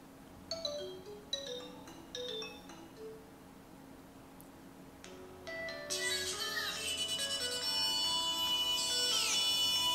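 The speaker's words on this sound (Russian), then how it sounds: "Стандартные Nokia мелодии." Standard Nokia ringtones play on a Nokia Lumia 520 phone: a series of bright chiming melodic notes, then a louder, denser ringtone that continues to the end.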